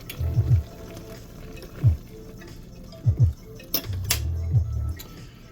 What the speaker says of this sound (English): Stirring occasionally. You know me. Occasionally I'll stir.